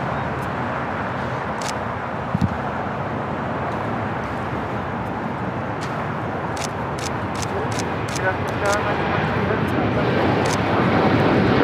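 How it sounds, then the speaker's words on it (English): A Boeing 787 Dreamliner airliner rolls down runway 25 right at LAX, a continuous broad engine roar that holds steady and builds slightly toward the end, with talk in the background. "Next arrival is the Dreamliner, now rolling down"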